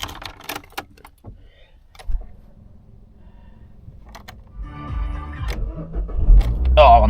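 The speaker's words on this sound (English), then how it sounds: "Let's have a listen to it. See if she fires up." Keys jangle and clicks sound near the microphone, then a Nissan Juke's engine cranks and catches, rising into a loud idle rumble.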